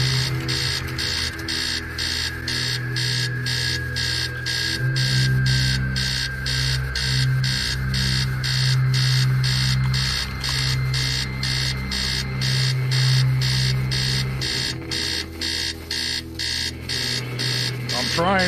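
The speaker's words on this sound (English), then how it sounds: "The alarm clock is very loud in the ears." A rapid, insistent alarm clock rings upstairs in the horror game Stories Untold, a loud pulsing beep repeating steadily throughout over a low background hum.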